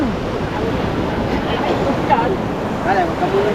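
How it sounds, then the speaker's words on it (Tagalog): Ocean waves wash and surge along a shore, blended with strong wind rumble against the microphone, while people talk over the water. "Wait lang, may alon."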